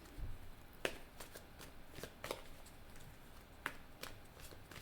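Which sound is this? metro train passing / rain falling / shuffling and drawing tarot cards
shuffling and drawing tarot cards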